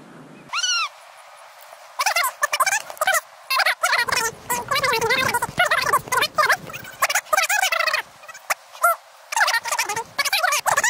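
Seabirds calling on the Oregon coast during crabbing, a run of loud, harsh, repeated squawks and screams close by, coming in quick irregular bursts with brief gaps.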